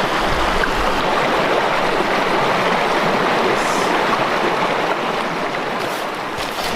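A small favourite creek close to home runs loudly and steadily, a dense broadband rush of flowing water that stays near and continuous throughout, easing slightly toward the end, with no voices.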